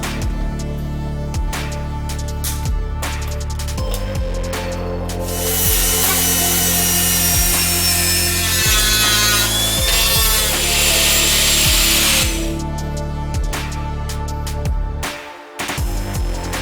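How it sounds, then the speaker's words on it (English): A power tool cuts pieces of flexible plastic for repairing a GSX-R 600 motorcycle fairing, a loud sustained whining buzz with shifting pitch and a brief harsher, brighter stretch midway, no speech. "We're going to be cutting off bits of plastic, flexible plastic like this stuff here"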